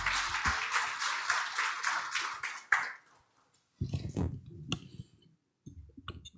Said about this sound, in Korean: 회장님 따뜻한 박수로 맞이해 주십시오